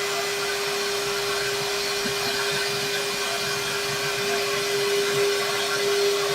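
A vacuum cleaner runs steadily and close, a constant loud whooshing roar with a sustained motor hum that neither rises nor fades.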